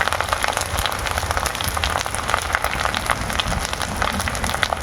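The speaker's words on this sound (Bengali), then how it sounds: "বাইরে বৃষ্টি হচ্ছে" Dense, steady patter of heavy rain falling outside, continuous and fairly loud with no voices.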